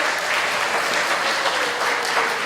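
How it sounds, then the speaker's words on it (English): A dense burst of clapping from a large audience at a school spring recital, loud and steady throughout with no pauses. "please everyone a warm round of applause for Amy Travis, our amazing music teacher."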